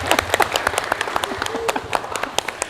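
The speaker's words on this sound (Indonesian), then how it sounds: "Tepuk tangan dong." Audience applause at a school event at SMP Negeri 3 Genteng: a short burst of many hands clapping close and fairly loud, with dense, uneven claps running steadily for a few seconds.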